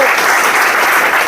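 A short burst of loud, thick audience clapping at a business presentation, steady from start to finish with no voices on top.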